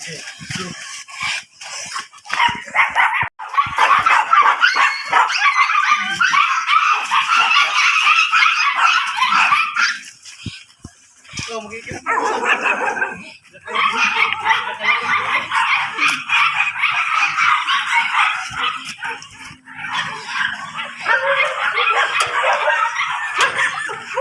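Repeated yapping barks from a dog, near and fairly loud, coming in bursts with short pauses, mixed with some background chatter.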